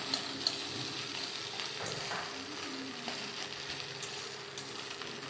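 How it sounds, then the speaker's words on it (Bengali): Fish roe fries and is stirred in a pan, a soft, continuous sizzle with occasional scraping stir sounds, fairly quiet and close with no voices. "ভালো করে ভাজা করব"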